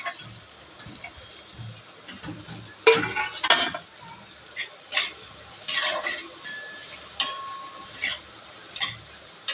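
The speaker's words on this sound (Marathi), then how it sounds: "आता हे आपण कांदे चांगले गोल्डन ब्राऊन होतोपर्यंत परतून घेणार आहोत." Chopped onions sauté in hot oil with cardamom and bay leaf for pav bhaji, giving a steady close sizzle broken by repeated spoon scrapes and clinks against the pan.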